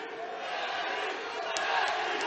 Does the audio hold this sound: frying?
no